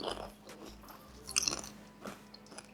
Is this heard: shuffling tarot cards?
no